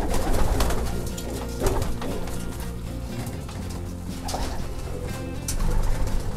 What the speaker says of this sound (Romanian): porumbei pe care vreau să-i prezentați